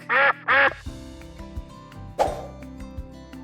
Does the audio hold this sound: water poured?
no